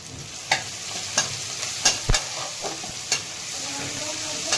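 Onion and peanuts sauté in ghee for upma, a steady sizzle broken by regular scraping taps of a spoon stirring the pan, close and alone.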